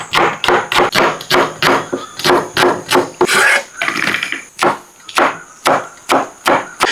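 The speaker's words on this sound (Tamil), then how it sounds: "அடுத்ததாக லீக்ஸோட கட் பண்ணிக்கிறோம்." Knife chopping leeks on a cutting board in a home kitchen, a steady rhythm of about fourteen crisp close thuds with a short pause partway through.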